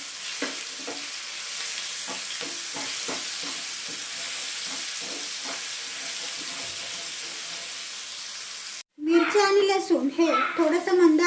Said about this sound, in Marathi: तेलाच्या वरतीच परतून घ्यायचं आहे